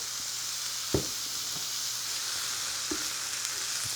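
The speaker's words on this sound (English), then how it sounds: "Just cook that steak all the way through." A steak fries on a griddle, giving a steady, quiet, even sizzle with a few soft clicks and small taps as the meat is moved. No one speaks.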